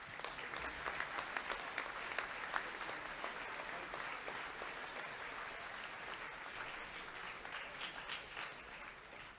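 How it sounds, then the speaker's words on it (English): Award recipients at a Year 11 academic awards ceremony get a steady round of applause from the audience, even and continuous, somewhat distant in a large hall. "Can we please give all of our award recipients one more big round of applause?"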